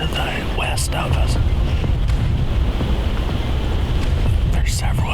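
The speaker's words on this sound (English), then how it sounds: "the wind's blowing pretty hard this morning" Strong wind gusting through a strip of timber woods on a morning deer hunt, a steady loud roar across the whole clip with low rumbling buffeting, no talk heard.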